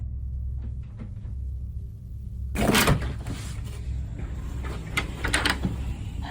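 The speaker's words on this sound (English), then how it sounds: "she opened the door herself" A door is opened inside a quiet home hallway: a low hum, then a sudden loud clunk and rattle as it swings open, followed by a few softer knocks and bumps.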